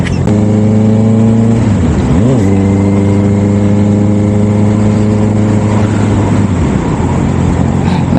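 A Honda CBR650R fitted with an Orion aftermarket muffler revs hard up close, loud harmonic engine tone holding steady, dipping and climbing again briefly near two seconds, then dropping off near the end.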